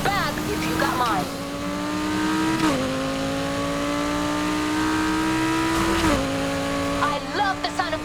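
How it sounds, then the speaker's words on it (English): A loud car engine in the video game Need for Speed: Heat revs and drones steadily, pitch climbing and dropping with gear shifts, with brief tire squeals near the start and end. "I love the sound of this engine"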